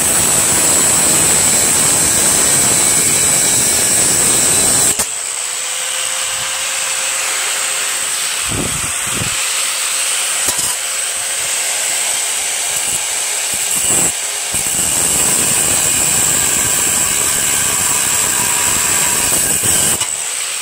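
Metal parts of a Jacobsen 6HP Tecumseh Imperial 26 two-stage snow blower are ground down with a power tool, a loud continuous whirring grind with short breaks and a lingering high whine, no talking.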